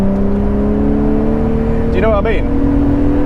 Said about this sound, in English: That V12 engine note is unbelievable.